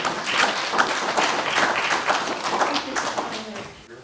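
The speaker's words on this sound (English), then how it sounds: "So a round of applause for you," Audience applause at a spring arts and humanities open mic held in a history museum, a steady patter of hand claps lasting about four seconds before tapering off, fairly close and unaccompanied by clear speech.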